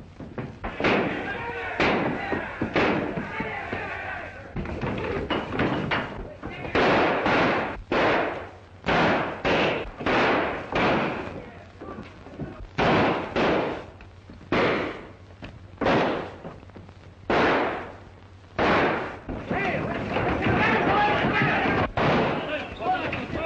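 Gunfire rings out as a man shoots up a town in a 1936 western film, sharp repeated bangs in uneven bursts, some close and loud, with voices and other sounds between shots.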